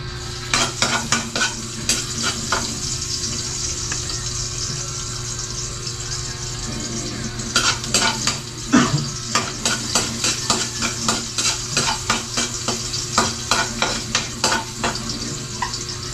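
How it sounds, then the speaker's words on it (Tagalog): Onion and garlic sauté loudly in hot cooking oil, a continuous close sizzle broken by frequent scraping and stirring clatters of a utensil against the pan. "Igisa lang muna natin yung ating sibuyas at bawang."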